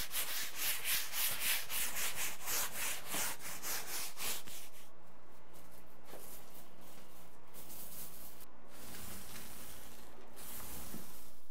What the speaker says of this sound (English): I'll try and sand that along with the rest of the wall